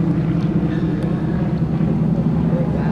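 Steady droning engine rumble of T-6 Texan aircraft during an overhead crossover at an airshow, heard as a continuous loud hum with faint speech beneath.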